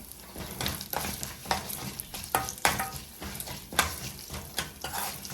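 Dried chillies and urad dal sizzle in hot oil for mint chutney, with steady frying crackle under repeated close scraping and stirring strokes in the pan.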